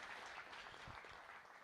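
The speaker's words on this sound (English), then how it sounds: "Another round of applause, please." An audience at a GRCon23 conference talk gives a short, soft round of applause. It comes as a brief, even patter of clapping.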